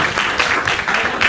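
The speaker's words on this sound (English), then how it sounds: "Give them a round of applause" An audience at an improv class showcase claps steadily, a dense continuous applause filling the room without a break.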